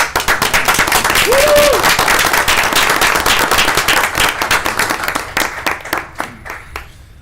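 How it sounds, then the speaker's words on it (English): A room of people at a city council meeting claps in a round of applause, steady, dense clapping that thins out into scattered, fading claps at the end. "Round of applause"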